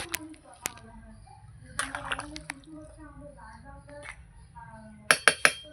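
Spicy mutton curry with fried potatoes stirred in a pot, scattered spoon clinks and scrapes with a soft wet bubbling underneath, a burst of sharp metallic taps near the end, and a voice speaking in between.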